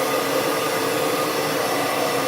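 A shop vac pulls air out through hoses on a Camaro ZL1 project in a garage, its motor roaring in a loud, steady, unbroken whine from start to finish.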